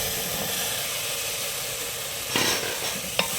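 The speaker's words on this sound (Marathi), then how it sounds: "मी या चिरलेल्या भाज्या माझं गाजर आपली दुधी भोपळा आणि वांगी हे मी याच्यामध्ये मिक्स करत आहे" Chopped carrot, bottle gourd and eggplant stirred into masala in a hot pan for medu vada sambar, with a steady sizzle and hiss throughout and a couple of brief utensil scrapes near the end.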